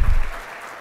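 Audience applause for a Female Athlete of the Year nominee at a Michigan high school athlete awards event, a loud burst of clapping that quickly fades to a softer patter.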